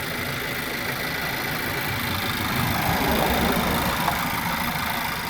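A diesel car engine idles at close range with a steady, rumbling clatter, a constant even drone that holds throughout without revving.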